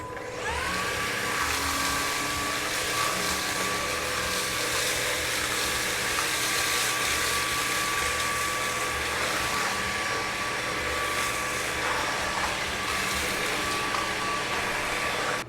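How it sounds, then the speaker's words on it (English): A Levoit vacuum cleaner runs on a concrete floor with a loud, steady whine and whoosh that holds at the same level throughout without pausing. "we're gonna be starting off the floor test with the Levoit"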